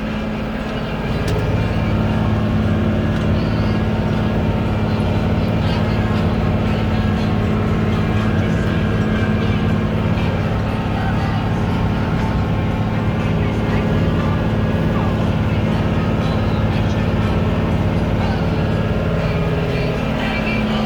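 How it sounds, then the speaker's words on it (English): A Case IH Maxxum 5240 tractor with a Cummins engine pulling a 5-furrow 7500 plow at about four miles an hour, a loud steady diesel drone that runs unbroken throughout, with someone talking over it. "Tractor's working good. Cummins engine is nice and strong."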